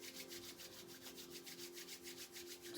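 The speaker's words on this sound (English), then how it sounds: "you're going to start to rub the palms of your hands together" Palms of the hands rub briskly together close up, a soft, rhythmic swishing of repeated strokes with no voices.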